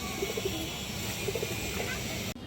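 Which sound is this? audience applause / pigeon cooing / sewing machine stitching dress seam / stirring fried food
pigeon cooing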